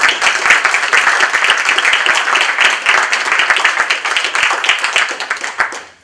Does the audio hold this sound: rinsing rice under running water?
no